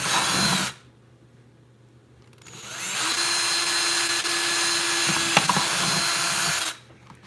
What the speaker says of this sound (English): what I'm gonna do is drill 2 holes about 1 inch across